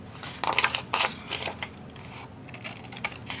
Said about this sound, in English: then I'm gonna punch the holes in